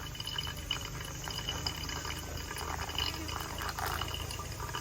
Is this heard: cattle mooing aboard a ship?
no